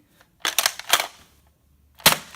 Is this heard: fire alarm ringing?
no